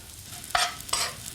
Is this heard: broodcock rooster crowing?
no